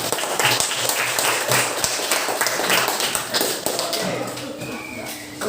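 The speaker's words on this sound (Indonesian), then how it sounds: "Ayo, tepuk tangan untuk kita semua." Students in a classroom clap together after group presentations, a steady, fairly loud patter of hands lasting several seconds with scattered voices mixed in.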